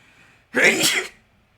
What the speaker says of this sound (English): Oh god, hold on, I gotta sneeze.